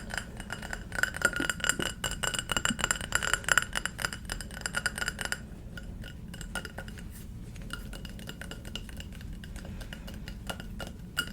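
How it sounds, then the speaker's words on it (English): Rapid, crisp tapping on glass fills the space with dense clinking rhythms, close and delicate, easing into sparser, lighter taps partway through, with no talking. "I love glass tapping."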